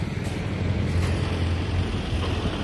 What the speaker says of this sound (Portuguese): Olha o barulho do caminhão.